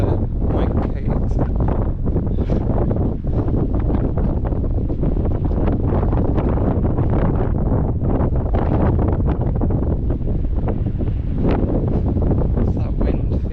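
Strong coastal wind on the Cornish coast buffeting the microphone in a loud, continuous roar with gusty surges, and a voice faintly audible beneath it.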